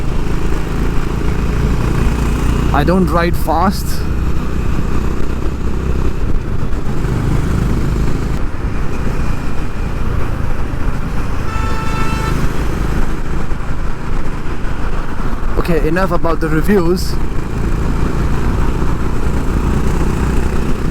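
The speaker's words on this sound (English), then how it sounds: "I don't know if you guys can hear the sweet noise, sweet sound of the engine thump." A Honda H'ness CB350 motorcycle engine rumbles steadily and loudly while riding, a constant low throb with wind noise, as someone talks briefly over it.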